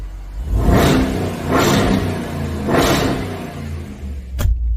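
A Ram 1500 pickup with a 5.7-litre engine and a Growl Turbo exhaust revs three times in a row, each swell rising and falling, and a short sharp click follows near the end.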